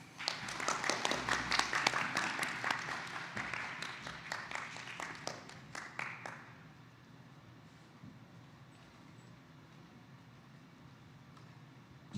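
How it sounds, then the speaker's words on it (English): Applause from a dinner audience at an award recognition, a dense patter of many hands that fades out after about six seconds, leaving quiet room tone. "Please honor me with a round of applause."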